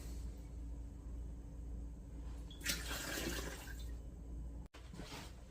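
Liquid ladled into canning jars in a homestead kitchen, a short splashing pour in the middle over a steady low background hum, with no talking.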